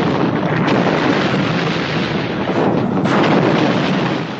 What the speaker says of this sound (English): The biggest in Asia explosion.